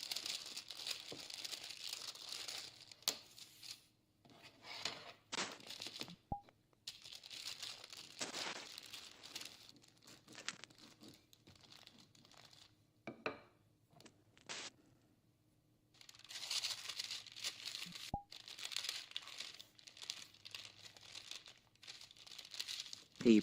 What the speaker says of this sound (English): Paper sounds.